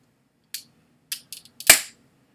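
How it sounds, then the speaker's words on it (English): A beer can bursting open with a sharp crack and spraying hiss, following a few brief clicks and taps; the burst is close and loud, trailing off in under half a second. "I have some beer. Oh fuck! It just exploded."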